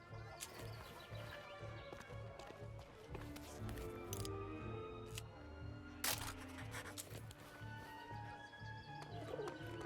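In the war game Memories Retold, a pigeon coos in a low repeating rhythm beneath a busy background of music and ambient sounds, with occasional sharp clicks and bursts.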